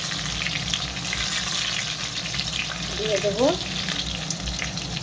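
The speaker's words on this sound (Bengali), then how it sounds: "এবার এই যে রসুনটা একটু লাল লাল করে ভাজা" Garlic frying in oil in a home kitchen for palak paneer, a strong continuous sizzle and crackle close by, while a person speaks over it.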